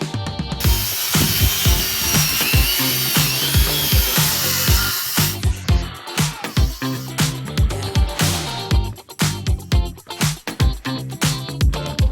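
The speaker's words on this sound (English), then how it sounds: "I'm just gonna make a series of cuts from this mark where the LVL will sit." A power saw makes a series of cuts into an LVL beam during a goat barn build. It whines loudly and steadily, then breaks into choppier, repeated cutting bursts.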